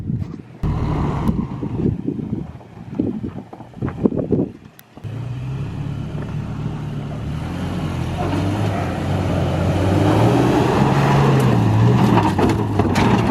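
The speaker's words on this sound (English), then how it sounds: "4-wheel drive donuts right here." Toyota Tacoma pickup spinning four-wheel-drive donuts in loose dirt off-road, its engine note building into a steady, rising roar after a short rough start, loud and close with no talk.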